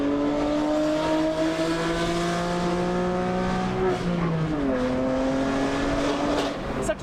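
A BMW M2 Competition with an equal length exhaust and free flow downpipes drives past, its engine note holding steady then dropping in pitch as it shifts or slows, loud and continuous with a faint tire squeal.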